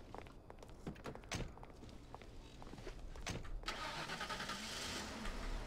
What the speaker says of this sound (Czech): Konečně to štartuje jak auto.